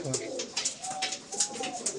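Low, throaty cooing from a Madrasi pigeon comes in a few short rolling phrases, close and moderately loud over light background noise.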